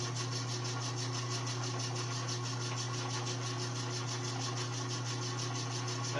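Metal lathe running steadily in back gear at 90 RPM while chambering a 6.5 rifle barrel, a constant close mechanical hum with a fine rhythmic whir and no talking.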